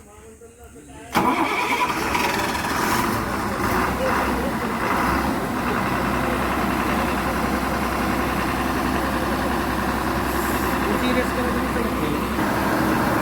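A broken-down bus struggling to climb a slope, its engine catching after a second and then running loudly and steadily with a heavy droning tone, with voices in the background.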